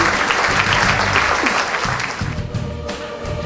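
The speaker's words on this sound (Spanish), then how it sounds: "El aplauso para esos dos," Loud, dense applause from a studio audience on a Spanish-language game show, a continuous wash of clapping close to the listener that eases slightly near the end while a voice speaks under it.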